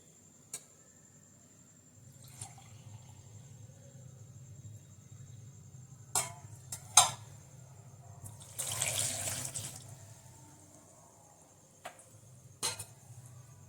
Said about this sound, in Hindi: अब मैं इसमें बिस्कुट डालती हूँ और 1 गिलास दूध डालती हूँ।